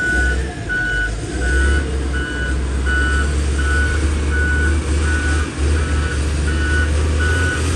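A road roller compacting soil on a dam crest, its heavy diesel engine rumbling loud and steady while a reversing alarm beeps in an even repeating rhythm throughout.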